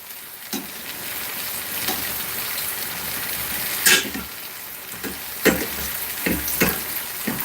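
Jamaican cornmeal fry dumplings frying in a pan of oil, a continuous crackling sizzle with a few louder pops and splatters as they are turned, close up and fairly loud.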